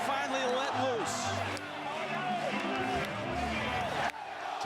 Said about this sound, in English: And the hometown crowd can finally let loose.